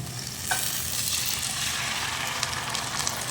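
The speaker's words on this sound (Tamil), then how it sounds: "வெங்காயம் பேஸ்ட்டு நல்லா கொதிக்கட்டும்." Steady sizzling and bubbling of an onion and tomato paste frying in a pan for egg gravy, continuous and close, with a faint stirring scrape early on.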